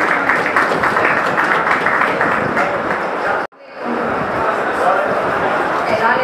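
Loud, dense applause fills a hall at a mushaira poetry gathering in Layyah as a poetess is welcomed, with voices mixed in and a brief sudden break midway before the clapping resumes.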